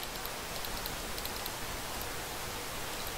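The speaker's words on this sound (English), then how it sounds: "Hot damn, it's raining." Steady broadband hiss of rain falling in the video game Minecraft, an even, unbroken wash of drops with no talk over it.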